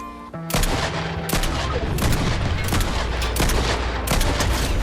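Pistol gunfire in the video game Fortnite: a run of sharp, loud shots fired in quick bursts with brief gaps, close and punchy, with no talking over them.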